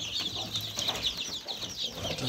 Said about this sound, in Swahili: Kwa hiyo kawaida vifaranga wa bata mzinga huwa wanatoa hizi sauti unazozisikia kama wanajisikia kiu na pia wanajisikia njaa.